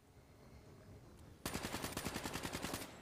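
Video game gunfire: after a quiet lead-in, an automatic weapon opens up with a loud, close burst of about fourteen rapid, evenly spaced shots lasting over a second.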